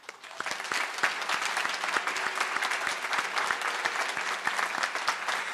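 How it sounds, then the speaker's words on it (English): Steady, dense applause fills a room at a nursing pinning ceremony, many hands clapping together at an even level with no talk over it. "Let's give them another round of applause."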